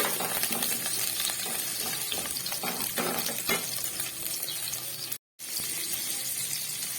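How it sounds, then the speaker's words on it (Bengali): Cauliflower frying in a pan for a fish curry with cauliflower, with a steady close sizzle and occasional scrapes of stirring throughout, broken by a brief dropout near the end. "এবার কপিটাকে ভালো করে আমি ভেজে নেব।"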